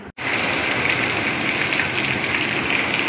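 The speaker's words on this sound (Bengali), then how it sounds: "যত পরিমাণে বৃষ্টি হচ্ছে" Heavy rain pours down steadily and loudly, a dense continuous hiss of drops on surfaces that fills the whole clip after a brief break at the very start.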